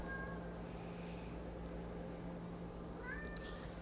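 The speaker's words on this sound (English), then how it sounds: "Can you hear my cat?" A faint cat meows a couple of times over the steady hum of an ice machine, once near the start and again near the end.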